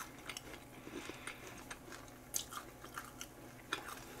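Crisp, crunchy food delivered by a home-kitchen service is bitten and chewed close up, giving a quiet series of irregular crackling crunches with a few sharper bites, and no talking.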